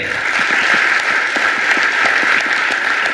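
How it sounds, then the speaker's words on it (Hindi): A live audience at a business presentation breaks into loud, dense applause that holds steady and close throughout, with no talking over it. "जोरदार ताली बजाइए"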